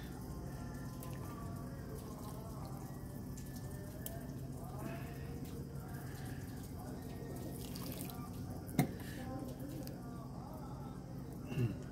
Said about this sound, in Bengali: জল বেরোতে লেগেছে তল দিয়ে জল পড়ছে দেখো